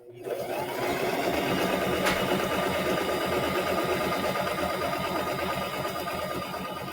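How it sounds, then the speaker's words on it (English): A sewing machine runs steadily, stitching fabric triangles together with a fast, even mechanical whir and rapid needle rhythm that starts abruptly and continues close up for several seconds. "Now, we have that one sewn together."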